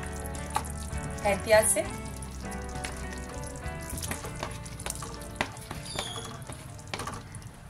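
Fried chicken pieces going into a pan of sizzling Afghani chicken gravy, with a close sizzle, clinks and stirring scrapes under a brief spoken line.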